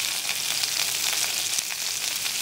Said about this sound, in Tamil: இந்த கொத்தவரங்காய் இப்படி போட்டுட்டு கொஞ்சம் கிளறி விட்டுட்டு